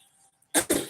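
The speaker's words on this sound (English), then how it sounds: "I had to clear my throat" A person clears their throat in two quick, raspy bursts close to the microphone, following near silence.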